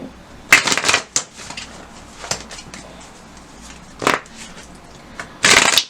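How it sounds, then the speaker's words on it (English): Oracle cards are shuffled in a few separate bursts of crisp riffling and flicking, close and fairly loud, with quiet pauses between each shuffle. "So I'm going to just probably pull 2 cards and go from there"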